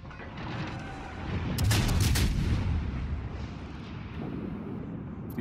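Warship guns fire in the naval battle game World of Warships: a heavy boom swells in the middle over a rumbling battle ambience, then fades back into a low, continuous din.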